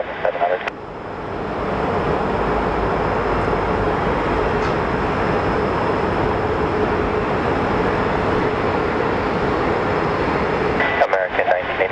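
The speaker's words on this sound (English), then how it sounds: "And that Southwest plane is super loud." A Southwest Airlines jet airliner at Phoenix Sky Harbor Airport roars loudly and steadily for nearly the whole stretch, a broad sustained engine rumble with no break.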